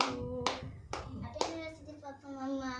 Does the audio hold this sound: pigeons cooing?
no